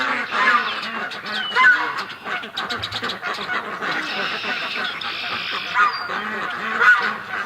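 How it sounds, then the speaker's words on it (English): Geese on a lake honk loudly and repeatedly, a noisy, overlapping chorus of calls from several birds close by, with some duck-like quacks mixed in. "We've got some serious goose action happening here."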